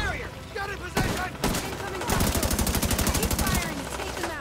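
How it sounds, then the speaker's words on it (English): Automatic gunfire from a firefight in The Division 2, opening with a few sharp separate shots and then a fast, loud, steady burst of rapid rounds, with voices calling out over the combat. "Keep firing, take them out!"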